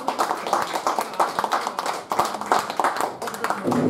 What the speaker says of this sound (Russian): под ваши аплодисменты на эту сцену приглашается член Союза писателей России